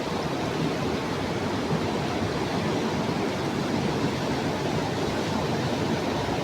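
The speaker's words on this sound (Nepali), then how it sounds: "खोला बढ्यो भन्दैछु त्यहीले" A swollen river rushes past in a steady, loud broadband roar of churning water, continuous and close for the whole stretch with no voices.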